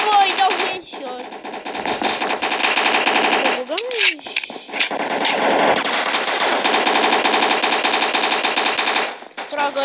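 Rapid automatic gunfire from the blocky shooter game Block Strike, sustained loud bursts nearly filling the stretch with short breaks, and a player's voice speaking faintly over it.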